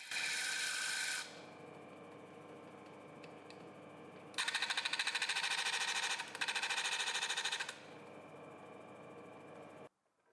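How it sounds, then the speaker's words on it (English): Sanding down an Allen bolt on a depth stop drill bit: a brief, bright scraping burst, then a quieter stretch, then two longer rasping bursts of rapid grinding before the sound stops abruptly. "I'll also sand down the Allen bolt of the depth stop bit a little so that it doesn't jut out as much."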